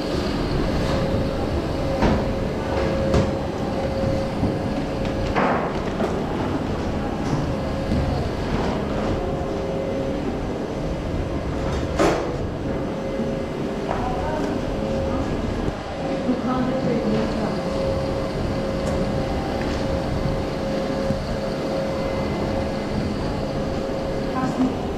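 JAC Unic dough moulding machine for shaping baguettes and loaves, running steadily in a bakery with a continuous mechanical hum and a faint whine, brief knocks along the way, and people talking over it.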